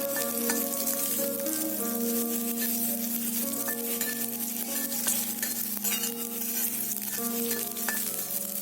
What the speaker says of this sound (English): temper with mustard seeds, red chili, fenugreek seeds, and curry leaves